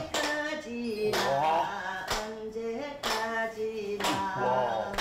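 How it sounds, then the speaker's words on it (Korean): In a seaside village in Samcheok, Korea, hands clap in time with someone singing, in sharp claps about once per second, close and clear over the melody. "내 박수 한번 쳐줄게."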